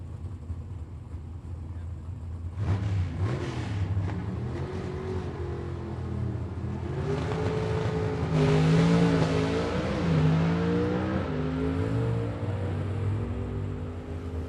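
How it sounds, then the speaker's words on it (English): A gasser drag race car at a Southeast Gassers Association event makes a sustained engine roar that climbs in pitch as it runs down the track, under steady commentary from an announcer. "Robbie Walden drives it through the top end."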